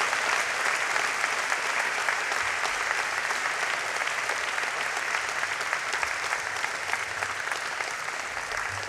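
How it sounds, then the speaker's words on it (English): Sustained, loud applause from a large audience at the RMIT Vietnam 2015 graduation ceremony on the Saigon South campus, an even wash of many hands clapping continuously for nearly nine seconds. "Huge round of applause."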